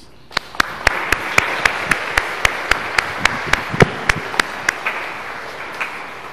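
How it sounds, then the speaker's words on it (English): A church congregation at a morning Mass claps in sparse, evenly spaced individual claps, about a dozen sharp hits over a soft room murmur, moderately near and fading toward the end. "give him a round of applause."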